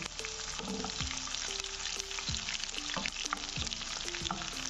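Whole red chillies and curry leaves crackle and sizzle in hot tadka oil for a turai daal mash, with a steady close frying hiss and popping spatters throughout.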